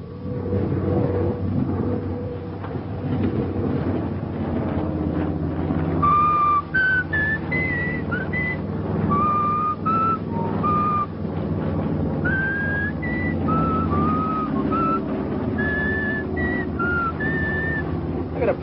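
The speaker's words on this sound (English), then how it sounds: "I'm going to practice up my whistling." Someone whistles a short, wandering melody in bursts of notes over a low engine-like rumble and background noise.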